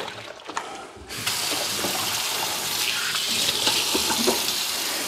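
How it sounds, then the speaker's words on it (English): Tap water runs steadily into a kitchen sink while hands are washed under it, the flow switching on after a brief clatter and continuing as a loud, close splashing rush. "I'm gonna wash my hands again."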